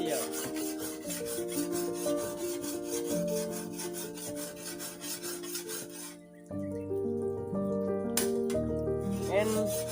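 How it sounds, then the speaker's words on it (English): A blade is sharpened in rural southern Myanmar during the rainy season, making rapid, steady rasping strokes that are close and clear. The strokes pause briefly and then resume over continuous tonal background music. "my bro is sharpening the blade"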